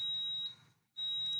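An alarm buzzer on an ATS Modbus test panel emits a steady high-pitched electronic tone, cutting out briefly for a fraction of a second, then sounding again, close and clear.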